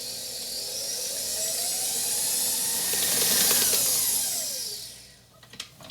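Stand mixer paddle beating gluten-free tiramisu cake batter in a bowl, a steady whirring motor hiss with rising and falling pitch sweeps that cuts off abruptly near the end, followed by a few small clicks.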